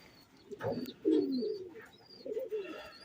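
Pet pigeons in a cage give soft cooing calls, a few rounded coos in short bursts with faint chirps between, close by in a quiet room, with no talk.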